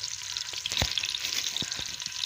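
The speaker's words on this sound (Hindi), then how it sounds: "गोल्डन कलर आने तक भुनाई करेंगे।" Chopped onions frying in oil in a pan for a rice biryani, a steady close sizzle and crackle with a few soft stirring knocks, no voices.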